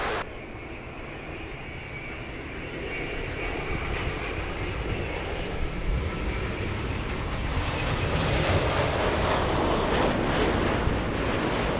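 An All Nippon Airways airliner at LAX roars with steady jet engine noise, a broad rumble that swells louder toward the end as the plane nears.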